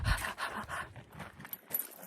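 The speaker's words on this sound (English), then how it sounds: "Pepper's panting." A dog named Pepper pants hard and fast after climbing a small hill on an outdoor walk. The quick, breathy rhythm runs close and steady throughout, with some rustling and footsteps around it.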